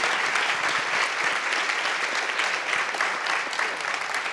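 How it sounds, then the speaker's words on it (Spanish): Steady applause from a conference audience at the closing session of a national and international congress, a dense even patter of clapping that holds at the same level throughout with no voices on top. "un aplauso para ellos"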